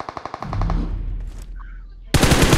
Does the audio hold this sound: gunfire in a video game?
yes